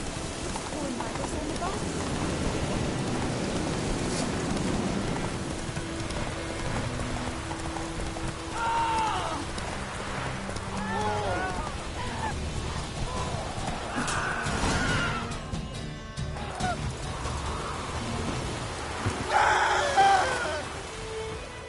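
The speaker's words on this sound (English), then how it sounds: "Let it rain." Steady rain pours over an outdoor scene with a horse nearby, a constant hiss throughout. Faint clopping, groans and brief scattered voices sit under the downpour.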